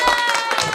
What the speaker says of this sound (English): now we get applause.